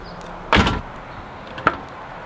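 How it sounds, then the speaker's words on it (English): Nissan 350Z car door opening after a new door handle install, a sharp latch clunk followed by a fainter click a second later, close up over low background noise, no voices. "it feels so weird finally being able to open my door"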